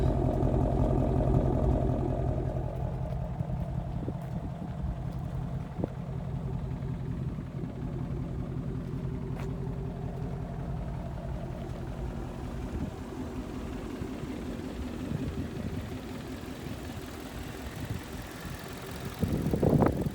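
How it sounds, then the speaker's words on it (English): A 2017 Ford Shelby GT350 idles with exhaust valves open, a deep, throbbing exhaust burble, steady and close, swelling slightly at the start and end. "This is idle with the exhaust valves open."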